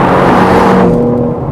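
A 2021 BMW M4 Competition accelerates in a loud, close, smooth engine roar that rises steadily in pitch, then eases off briefly at the end as a gear shifts.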